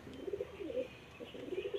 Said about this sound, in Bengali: দেখুন এখানে একটা মাদি পায়রাটা, ফিমেল পায়রা, মুন্ডি সাদা